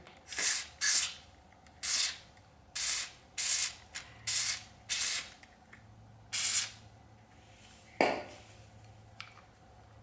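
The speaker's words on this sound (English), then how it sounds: "This one here is a grease spray and stay." Short hissing bursts from a can of grease spray lubricant, used on a leaking outdoor tap, repeat about a dozen times in an uneven rhythm, close and crisp, with faint rattling between them.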